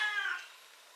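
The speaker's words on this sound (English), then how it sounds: "I've got a whiny cat down there." A single drawn-out, whiny meow from a cat close by, loud at first and then trailing off, with no talk over it.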